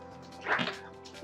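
A dog yips and whimpers once inside a video game, a short high-pitched burst over steady game music, with no talking.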